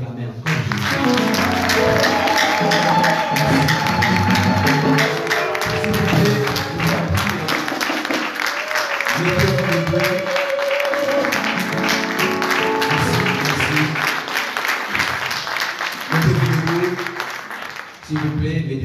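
A church congregation applauds and cheers for Jesus, sustained loud clapping from a large crowd in a hall with voices and shouts mixed in, fading slightly near the end.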